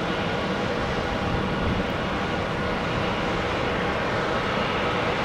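An airliner, flight 538, taxiing past the FedEx cargo ramp at Tampa airport, heard as a steady, unbroken engine roar that stays loud and even for the whole stretch, with no voices over it.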